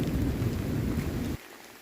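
Thunder rolls over a rarely used woodland trail during a rain shower, a dense low rumble with steady rain hiss that cuts off abruptly near the end, leaving faint patter.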